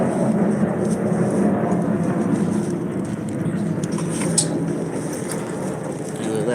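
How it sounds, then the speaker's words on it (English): An airplane passes overhead outdoors, a steady, close, broad rumbling roar that holds at an even loudness throughout. "Fucking airplane!"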